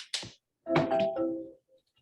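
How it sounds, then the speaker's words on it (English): A cell phone rings in an office setting, two short electronic ring tones separated by a brief pause, fairly quiet and clear with no talking over it. "it's ringing his cell phone"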